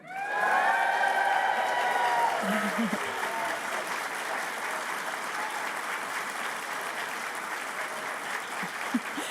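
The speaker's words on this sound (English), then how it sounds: "I'd like to give a big cheer for our graduating class of 2026." A large crowd at a graduation ceremony cheers and applauds, starting with loud shouts and whoops that settle into sustained, steady clapping.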